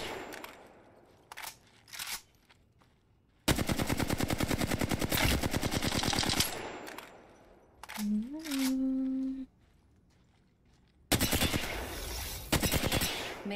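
Gunfire in the video game Apex Legends: a few sharp single shots, then long bursts of rapid automatic fire, loud and close, separated by quieter stretches of game sound.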